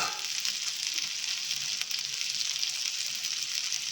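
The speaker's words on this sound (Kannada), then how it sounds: "ಆ ಕಡೆ ಈ ಕಡೆ ಬಿಸಿ ಒಂದು ಎರಡು ನಿಮಿಷಕ್ಕೂ ಫ್ರೈ ಮಾಡ್ಕೋಬೇಕು ಫಿಶ್ ಬೇಗ ಬೆಂದೋಗ್ಬಿಡುತ್ತೆ" Fish fillets frying in a pan with a steady, bright, close sizzle that holds even and unbroken throughout, with no talking.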